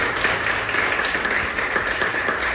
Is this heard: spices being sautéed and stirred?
no